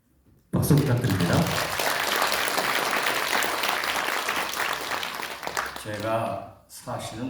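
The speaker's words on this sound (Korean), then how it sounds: "박수 부탁드립니다." Sustained, dense applause from a crowd at a Korean political party launch event, greeting a former professors' association co-chair, steady and loud for about five seconds before a voice speaks near the end.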